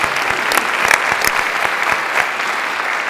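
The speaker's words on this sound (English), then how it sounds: "let's give these folks a round of applause" Sustained audience applause at a Pittsburg State University spring convocation, a loud, dense crowd clapping continuously with a few sharper individual claps standing out, no voices over it.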